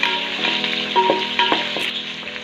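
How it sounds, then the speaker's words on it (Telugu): Onions frying in hot oil and dalda in a biryani pot, with whole biryani spices, give a steady close sizzle, broken by a few louder crackles and bursts of spitting with no voice present. "గోల్డెన్ బ్రౌన్ వచ్చేంత వరకు వేయించుకోవాలి."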